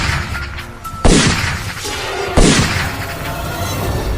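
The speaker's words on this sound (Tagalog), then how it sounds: "bigla na lamang kaming nakarinig ng tatlong sunod-sunod na mga pagputok" Loud sharp gunshots from a rifle or airgun crack in quick succession, two clear reports standing out over a dense background rumble.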